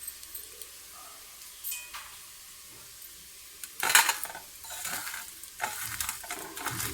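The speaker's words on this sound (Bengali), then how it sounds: "আমার পেঁয়াজটাও ভালোভাবে লাল করে ভাজা মোটামুটি হয়ে এসছে" Onions fry in a pan until browned, giving a soft sizzle with scattered utensil clinks and scrapes against the pan. A louder burst of stirring comes midway, then the frying continues, with no voices.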